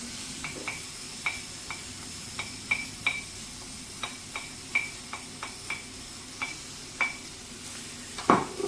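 Peppers, onions, chilli, garlic and coriander stalks fry in a pan for Moroccan chicken and rice, a low steady sizzle under repeated sharp metallic clinks of a utensil stirring against the pan.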